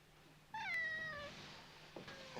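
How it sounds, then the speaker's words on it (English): A house cat meows once in a drawn-out, rising-then-falling cry, fairly close and clear in a quiet room, followed by a fainter short second call. "A damn cat."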